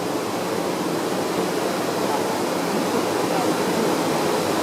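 Strong river current at a waterfall in Ko Chang, Thailand, a steady, loud broadband rush of falling and churning water that fills the whole stretch without pause.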